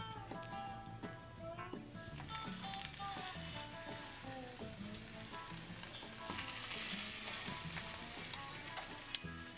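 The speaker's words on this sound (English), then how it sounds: "You can hear it sizzling." Steady, close sizzling of cheese in a hot frying pan, a constant crackling hiss with faint background music and no talking.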